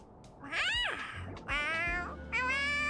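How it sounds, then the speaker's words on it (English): A cat in a bag in the video game Honkai Star Rail gives three clear, close meows in a row, the first rising and falling and the next two longer and steadier. "It's meowing and they have it written out as woof"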